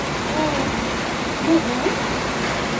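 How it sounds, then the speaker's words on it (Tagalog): Rain falls steadily outdoors as a continuous broadband hiss, like a soft downpour, with faint voices and a few brief murmurs under it. "First time makakita ng ulan naman po."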